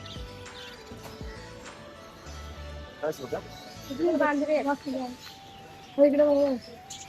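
Caged parrots chirp and squawk in short calls against a busy background of people talking and general market noise at Crawford Market, Mumbai.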